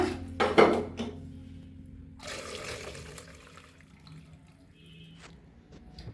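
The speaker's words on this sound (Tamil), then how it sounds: "பச்சை தண்ணி ஊற்றி வாஷ் பண்ணிக்குவோம் நல்லா." Running water splashes and pours as cooked pasta is rinsed, with a burst of clattering near the start and a second rush of flowing water midway, then quieter trickling.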